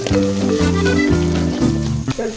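Curry leaves and onions fry in hot oil for a Mangalore-style prawn sukka, giving a soft, continuous crackling sizzle under steady background music.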